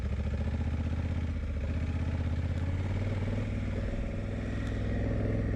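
A Honda Africa Twin DCT motorcycle climbs a hill in first gear, its engine thrumming steadily and loud throughout with a low, even throttle and no talk.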